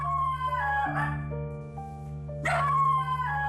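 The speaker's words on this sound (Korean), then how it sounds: "태교보다는 망치가 짖는 소리를 더 많이 들어요" A dog named Mangchi barks and howls at night, a few drawn-out, tonal yowling barks in two bursts over a steady low background hum.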